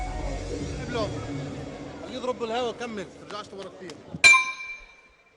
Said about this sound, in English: There goes the bell for the beginning of the third round.